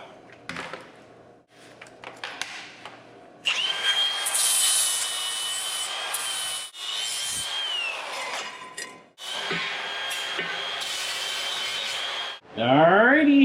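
A power tool grinds against wood in long continuous stretches, a harsh abrasive whine with short pauses between passes and a quick pitch sweep at the end, close and fairly loud, with no talking.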